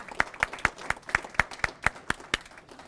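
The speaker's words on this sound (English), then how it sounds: "So if we could just applaud ourselves for what everyone's done here." Clapping at a mental health response team press conference, a slow, evenly spaced series of about ten distinct claps, fairly close and crisp, with only a faint room murmur behind them.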